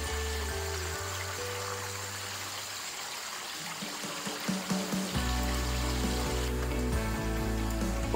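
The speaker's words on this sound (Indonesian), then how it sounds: "overflow ini akan membuat aliran air mengalir di sepanjang pipa ini, kemudian dialirkan ke dalam RDF" Water overflows from a concrete tilapia pond into a pipe that carries it to a rotary drum filter in a recirculating aquaculture system, a steady rushing flow with a low pump hum that grows fuller and louder partway through.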